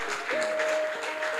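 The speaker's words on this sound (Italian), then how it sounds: "Facciamo un applauso anche a Giuseppe," A crowd in Siracusa applauds at a coffee show, brief dense clapping with a sustained tone running underneath.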